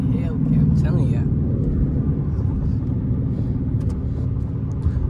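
Dodge Scat Pack muscle car engine rumbles steadily in a deep, continuous drone while driving, loud and close, with people talking over it.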